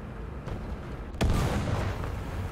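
Artillery fire in a video game tank battle: a faint distant thump, then a sharp, loud blast that cuts in and rolls on as a rumbling tail, with no talking.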